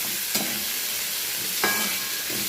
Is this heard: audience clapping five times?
no